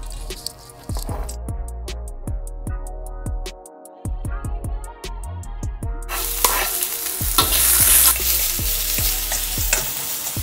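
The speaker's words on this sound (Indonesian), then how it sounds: "Kita panaskan minyak sedikit saja. Kita masukkan bawang bombay." Onion frying in a little hot oil, a spatula scraping and stirring in a rhythmic series of clicks, then a louder, steady sizzle.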